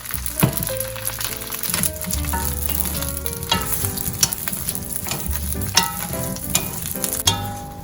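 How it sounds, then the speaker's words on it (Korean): Semi-dried pollock stir-frying in a little oil, a steady close sizzle broken by frequent scraping and tossing clatters of the spatula in the pan. "얘를 한번 살짝 볶아줄게요."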